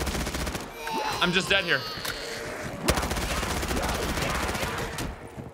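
Rapid bursts of turret gunfire in a zombies video game, crackling automatic shots with a sharp single bang near the middle, while a player talks over the shooting.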